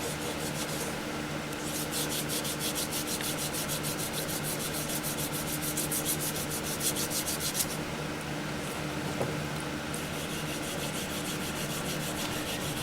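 Sanding sealer (Minwax) is rubbed onto a wooden vase, producing a soft, steady, rapid back-and-forth scrubbing close by, continuous with brief pauses.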